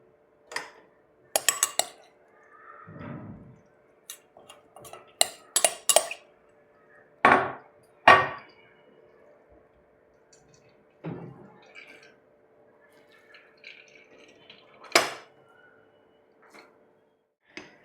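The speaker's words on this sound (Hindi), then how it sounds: "एक चम्मच ले लेंगे, प्रेस कर सके, और प्रेस करके ये पूरा जो ऑयल है वो हम निकाल लेंगे।" Spoon pressing and scraping in a metal strainer to squeeze homemade herbal oil through it: irregular clinks, scrapes and clatters, with soft drips and sloshes between them, close by and without speech.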